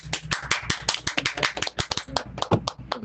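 A small crowd claps in applause, a close, uneven burst of overlapping hand claps that keeps going steadily throughout.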